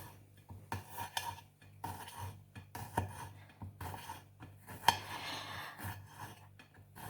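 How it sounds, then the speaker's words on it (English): A knife slices asparagus stalks finely on a board in a home kitchen, giving a series of soft, irregular cutting taps and scrapes up close, with occasional sharper clicks and a low steady hum behind them. "Now, I am slicing these asparagus very, very carefully."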